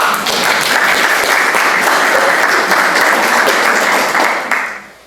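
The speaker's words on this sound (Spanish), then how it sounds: "quiero pedirles un aplauso" Steady, dense applause from an audience at a talk, loud and continuous for several seconds before fading out at the end.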